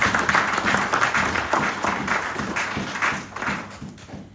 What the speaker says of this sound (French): Acclamons très fort pour la gloire du Seigneur Jésus-Christ.